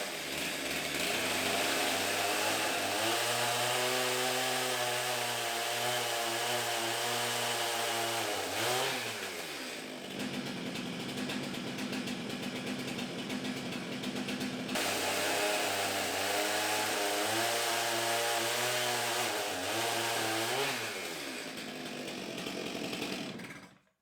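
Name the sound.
chainsaw cutting a piece off a wood bowl blank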